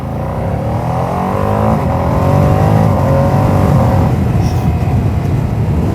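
A Ducati Panigale V2S motorcycle engine revs up and holds a loud, throaty growl, with rising harmonic pitch, close and continuous throughout.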